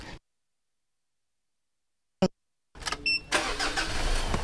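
After near silence and a brief click, a 2012 Mitsubishi Pajero Sport diesel engine cranks and starts, then runs at a steady, fairly quiet, smooth idle close by.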